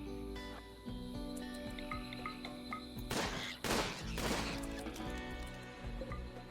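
A video game's gunfire sounds as a few sharp, fairly close shots around the middle of the clip, with two louder bursts that stand out against a tonal, layered game background.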